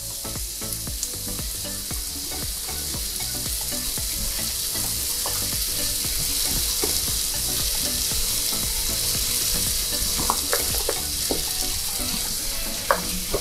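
Mushrooms sizzle in oil in a pan while being stirred, with a steady loud frying hiss and scattered clicks and scrapes of the utensil throughout.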